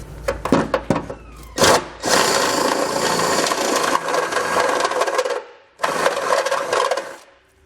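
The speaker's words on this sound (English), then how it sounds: "the way I am going to enlarge it is by using a step drill bit" Step drill bit enlarging a hole during a Curt trailer hitch receiver install on a 2021 Subaru Forester, a few short grinding bursts and then long loud whirring, cutting runs that stop briefly and start again, close up.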